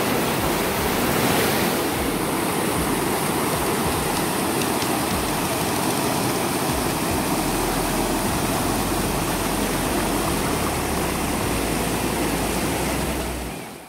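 The Godavari River rushes forcefully at its confluence with the Kapila at Tapovan in Nashik, swollen after overnight rain, a loud, close, steady roar of churning water with no voices.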